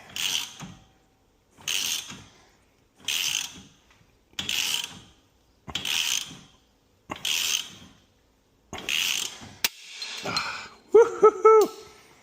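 Ratchet cranking on a Porsche Cayman 987 adjustable toe arm: seven evenly spaced bursts of close, loud clicking, followed by a sharper metallic creak and squeal as it gets harder, no talking.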